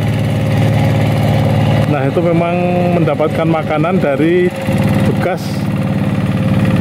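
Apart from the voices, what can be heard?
tractor engine running near the road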